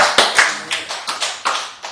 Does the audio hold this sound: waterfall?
no